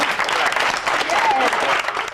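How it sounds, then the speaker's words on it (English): Audience applause at an auction, dense and continuous clapping from a crowd, fairly loud and steady, with some murmured voices mixed in beneath it. "But those shouts turned into applause and a few tears."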